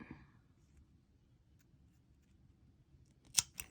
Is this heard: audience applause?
no